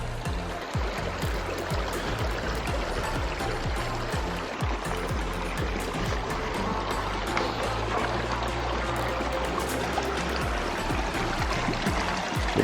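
Small, clear mountain creek in Montana's Big Snowy Mountains, a steady, close rushing and burbling of water over rocks that stays constant throughout with no voices.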